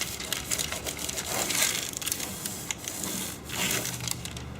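Cellophane is rubbed down over a headliner panel inside an upside-down hardtop for a 1987–95 Jeep Wrangler YJ, giving close, continuous crinkling and scraping rubs in uneven strokes.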